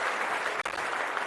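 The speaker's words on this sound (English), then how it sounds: "Let me give you some applause, man." Applause greets a guest on an interview show with a table tennis pro, a loud, steady wash of clapping that breaks off for an instant midway, then resumes.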